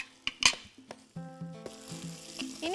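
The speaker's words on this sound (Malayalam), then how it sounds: "നമ്മുടെ ഉള്ളി ഒന്ന് എന്നാ പറയുന്നത് വഴന്ന് കിട്ടണം" Onions and curry leaves sautéing in oil in a pan for a duck curry with crushed dried chillies, a soft sizzle under sharp metal spoon scrapes and clinks, a few stirring knocks at close range.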